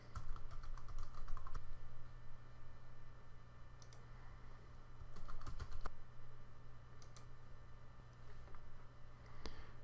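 Someone types a username on a computer keyboard for an Avaya AS5300 login: short bursts of crisp, close key clicks separated by pauses, over a steady low room hum, with no talking.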